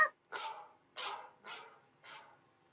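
Dog barking in four separate, fairly close barks with short gaps between them, clear and alone without talk.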